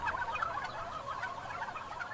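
A large flock of Butterball turkeys in a barn, many birds gobbling and clucking at once in a dense, continuous chatter at moderate level.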